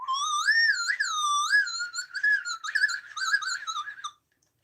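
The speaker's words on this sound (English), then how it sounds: "If I whistle into this, it sounds like a cartoon slide whistle." A person whistles into a speaker that warps the tone into a cartoonish slide-whistle sound, with swooping, wavering pitches that rise and fall over several seconds. The whistle is loud and close, and ends abruptly.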